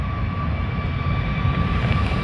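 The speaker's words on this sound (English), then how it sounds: "United 737 MAX 9 taking off on runway 6." Steady broadband roar of a United Boeing 737 MAX 9 jet taking off from an airport runway, a continuous loud engine rumble with a faint whine, no talking.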